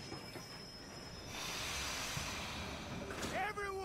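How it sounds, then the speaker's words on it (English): A train pulls in during a Red Dead Online mission, its steady hissing rumble swelling midway and ending in rising metallic wheel squeals. "Train's coming in."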